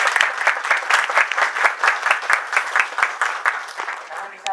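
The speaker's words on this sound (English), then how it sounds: "Can we get a round of applause for them?" An audience applauding guests from Japan at a debate tour event, a lively round of clapping with a slightly pulsing rhythm, close and full, fading a little at the end.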